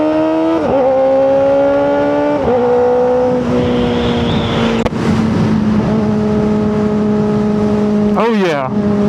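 Kawasaki ZX4RR motorcycle engine running loudly and close, with a high, continuous drone that rises and falls through several gear changes and ends in a sharp rev, under steady wind rush and some talk.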